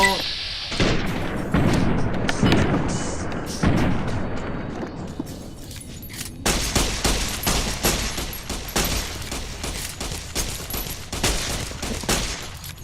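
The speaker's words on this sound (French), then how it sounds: "Je tire n'importe où, n'importe comment." Weapons fire in Fallout: New Vegas comes as rapid, loud volleys of shots, dense and overlapping in the first half, then a second run of sharp, evenly spaced bursts after a brief break, with a voice speaking over the shooting.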